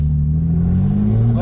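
An 800hp BMW M2 with its engine droning steadily as it accelerates and its tires spin, a loud, close rumble with a slowly rising pitch.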